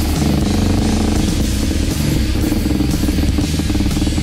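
KTM 390 motorcycle engine pulling hard under acceleration, a loud continuous drone with steady rumble that stays close and dominates throughout.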